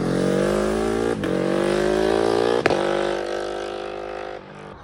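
A classic car's engine revs loudly and continuously at close range, a rich, steady roar with slight swells in pitch and no talking over it.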